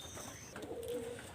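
Quiet, soft coo from a domestic pigeon at a breeder's coop, a single low murmuring call over faint background noise with a high-pitched hiss fading early.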